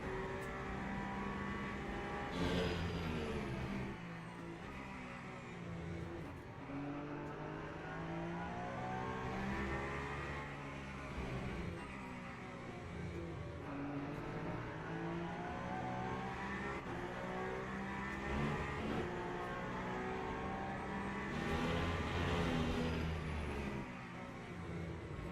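A Peugeot race car engine in Le Mans Ultimate drones and revs continuously, rising and falling through gear changes at close range, loud and steady with no talk over it.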